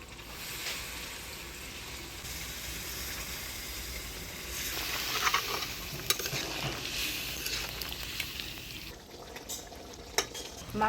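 Chicken kosha sizzling and bubbling in a pan after a little water is added, a steady close hiss with stirring and occasional scrapes and clinks of a spoon against the pan, with no talk.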